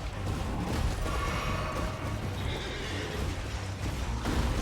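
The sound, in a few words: horse neighing in video game Elden Ring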